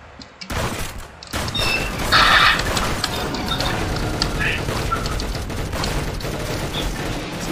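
Shotgun gunfire in the video game Arsenal, a dense run of sharp, loud blasts and cracks over busy game sounds, with people talking throughout.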